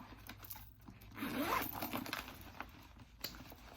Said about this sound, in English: You have a zip pocket